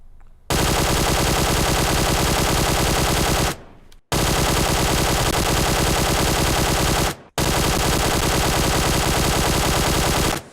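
Sustained full-auto bursts from a QBZ assault rifle fitted with an angled foregrip in PUBG Mobile, three long loud strings of rapid shots separated by brief pauses, with no talking.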